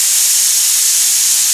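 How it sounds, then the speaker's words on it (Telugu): A pressure cooker full of radish-leaf dal vents steam in a loud, steady hiss at close range, unbroken for the whole moment with no voices. "కుక్కర్ 2 స్టీమ్స్ వచ్చిన తర్వాత నేను సిమ్లో ఉంచుకుంటున్నాను స్టవ్ని"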